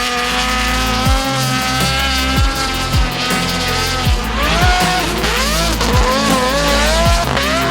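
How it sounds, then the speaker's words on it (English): A race car built from two JZ six-cylinder engines joined together with twin superchargers and a large intake manifold roars loudly, with repeated up-and-down revs, sharp gear-change dips and squealing tires. "one of the most insane sounding cars on grid"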